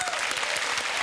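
Studio audience on a television chat show applauding to cast a vote, a dense burst of clapping filling the whole moment at steady volume.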